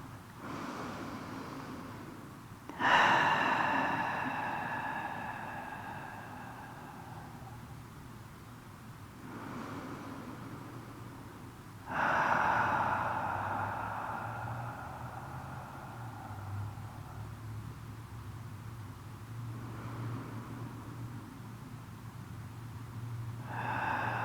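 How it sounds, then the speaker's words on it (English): Slow yoga breathing, in through the nose and out through the mouth, comes as long, close, airy whooshes that swell and fade, with a few breath cycles spaced evenly over a quiet background. "Inhaling through the nose and exhaling through the mouth"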